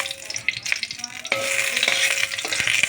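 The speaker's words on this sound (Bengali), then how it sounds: "সঙ্গে পাঁচফোড়নটাও ভাজা হয়ে যাবে।" Panch phoron five-spice frying in hot mustard oil in a dry wok, a bright crackling sizzle that swells louder partway through, with a few stirring scrapes and no speech.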